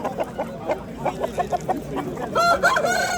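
A rooster crows loudly and close by at a poultry market, with clucking chickens around it, in a short burst.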